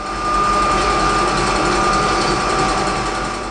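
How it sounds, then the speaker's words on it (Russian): Electric mixer whipping egg whites at high speed, a continuous, loud motor whine with a steady pitch, heard close and alone with no talking. "Пока у нас сироп будет вариться, мы взобьем белочки."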